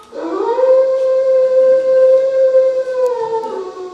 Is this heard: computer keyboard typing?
no